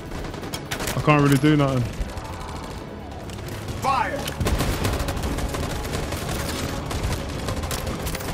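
Gunfire in the Detroit: Become Human video game, a burst of rapid shots early on followed by scattered reports and rumbling battle noise, with someone talking over it.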